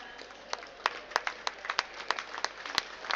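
Crowd applauding at an ice hockey grand final, a steady patter of many hands clapping at moderate distance with sharper individual claps standing out throughout.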